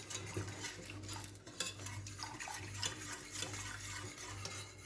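Wheat starch being stirred slowly into a mixture of water and sugar for homemade Turkish lokum, a steady scraping swirl of a spoon in a pot with a low hum underneath, close and continuous.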